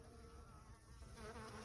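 Honeybees buzz steadily at the hive during a honey harvest, a continuous close drone of many insects that swells slightly toward the end, with no talking.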